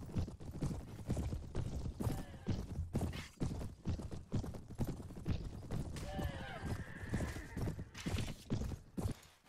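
Hooves of a horse clip-clopping at a fast, steady gallop in a Mount and Blade battle between Rohan and Mordor, with loud pounding beats throughout and a whinny-like call midway, set amid busy battle noise.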